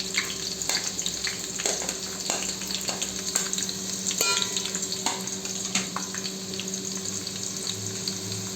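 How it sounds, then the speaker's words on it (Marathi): Garlic fries in hot oil alongside green chilies for poha chivda, a continuous crackling sizzle with frequent small pops and spatters at close range. "आता लसूण टाकूया आपण"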